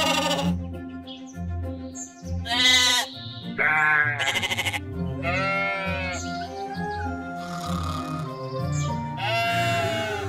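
Several sheep bleat repeatedly in the VR game Giants, loud and close, their wavering cries overlapping one another with no talking.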